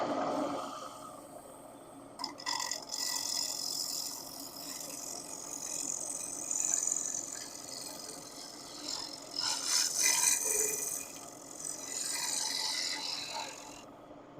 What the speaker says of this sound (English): I'm taking really light passes with the negative rake scraper